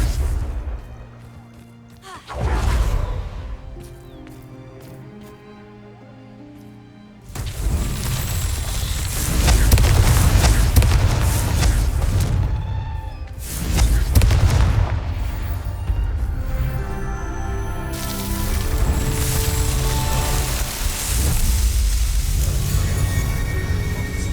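Confringo fire spell explosions in Hogwarts Legacy land as repeated heavy booms and crackling bursts over busy game ambience and music, with a brief quieter stretch early on.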